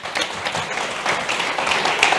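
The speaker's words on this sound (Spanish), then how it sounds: "Un fuerte aplauso para Andrés, por favor." Audience applause after a Spanish-language talk on becoming a big data developer, a steady wash of clapping lasting a couple of seconds, fairly close and even in loudness.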